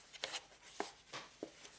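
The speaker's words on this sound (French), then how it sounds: "Je vais faire des petites entailles au niveau des plis pour former les encoches." Faint, close scratches and short rasps as a blade cuts small notches at the folds of a cardboard box, three or four quick strokes with quiet pauses between.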